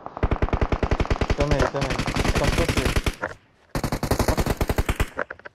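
Rapid automatic gunfire from the mobile battle royale game PUBG Mobile, loud bursts of repeated shots in quick rhythm with a short pause before another burst, while a voice speaks briefly over it.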